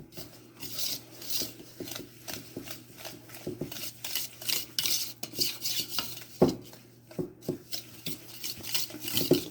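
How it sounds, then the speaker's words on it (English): Flour and baking powder being whisked by hand in a single bowl for German chocolate brownie batter, with quick rhythmic scraping and clinking of the whisk against the bowl, close and fairly quiet. "So we're going to whisk that in."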